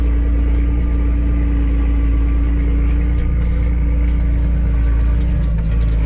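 Steady, loud low engine drone of a tractor towing a 12-tonne Marshall muck spreader, a constant rumble with machinery hum running throughout.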